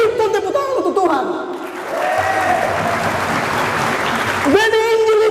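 A church congregation breaks into loud, sustained clapping, close and dense, while a preacher's amplified voice talks over the start and end of it.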